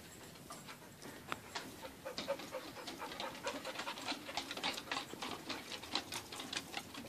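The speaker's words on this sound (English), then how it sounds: "Dog, stay back." A dog pants near the deck of a home by a creek, with rapid, rhythmic breathy puffs continuing steadily and fairly quietly throughout.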